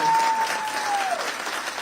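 Applause from a town hall audience fills a brief moment, a thick, continuous clatter of many hands that fades slightly toward the end.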